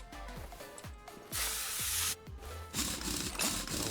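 WD-40 can spraying in a video game: short bursts of hissing aerosol spray mixed with quick mechanical clicks and clanks of the game's rebuild work, close and fairly loud.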